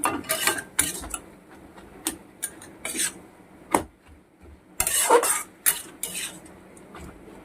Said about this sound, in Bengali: সামান্য ধনে গুঁড়ো দিয়ে দিয়েছি ভালোভাবে নাড়বো